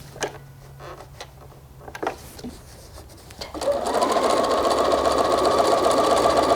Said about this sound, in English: So we're going to sew our 1/4 inch.